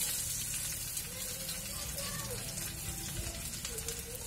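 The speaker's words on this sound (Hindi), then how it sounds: "और अब मैं डाल दूंगी इसमें लहसुन।" Garlic goes into hot oil in a kadhai and sets off a dense, steady sizzle that continues as someone talks over it.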